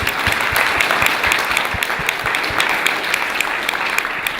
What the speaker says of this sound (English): So please, a big round of applause for Rebecca Gonzalez